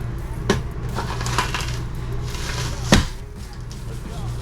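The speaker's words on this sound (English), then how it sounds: "Then you just get the chopping away." Vegetables being chopped with a manual food chopper while making shepherd's pie, giving a few sharp, close chops amid low kitchen hum and background noise.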